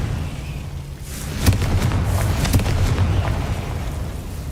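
Confringo spell blast in Hogwarts Legacy, a booming fiery explosion followed by a rumbling rolling burst with crackling pops, loud and sustained for several seconds.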